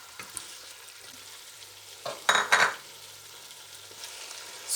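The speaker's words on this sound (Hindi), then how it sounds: "अच्छी तरह भूनेंगे जब तक हमारा गोश्त जो है ना ये ब्राउन ना हो जाए" Meat and green chilies stir-fry in a pan with a low background sizzle, broken midway by two loud bursts of hissing and scraping as the mixture is tossed, then settling back to a gentle crackle.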